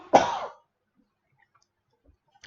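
A single rough cough from a man during a football podcast, loud and close, followed by near silence and a faint click at the end.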